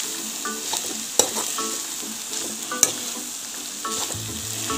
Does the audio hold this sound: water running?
no